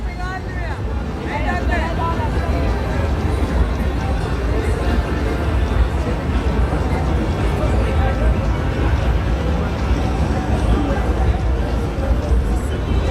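Dense crowd chatter and babble at a school cricket match between Royal College and S. Thomas' College, a steady loud hubbub filling the whole stretch with no clear single voice.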